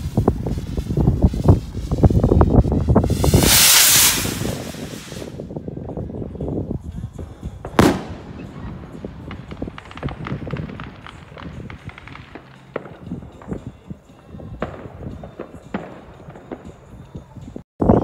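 Zink 910 bomb rockets firing outdoors, with sharp loud bursts and crackling explosions early on, a single strong bang near the middle, then scattered fainter pops and wind noise trailing off.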